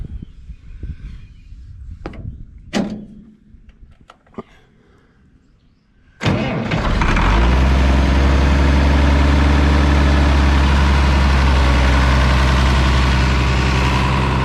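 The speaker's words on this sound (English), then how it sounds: "I'm gonna do a real quick cold start on this thing. It's not been cranked in a week" A 46-year-old machine's engine cold-starts after a week unused in near-freezing weather, catching abruptly and settling into a loud, steady, low rumbling idle.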